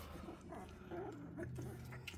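Central Asian Shepherd (Alabai) puppies in a litter whimper and yip softly in short, repeated high cries over a low background rumble, close by with no talking.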